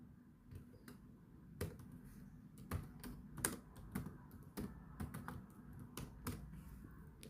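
Fingers tap on a computer keyboard in quiet, irregular bursts of crisp clicks, close up, with a faint background hum and no voices.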